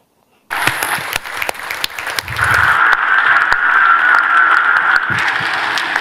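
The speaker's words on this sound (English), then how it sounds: "there was the applause" Audience applause breaks out after a talk on the Great Barrier Reef, starting abruptly and swelling into steady, dense clapping that holds for several seconds and dips slightly near the end.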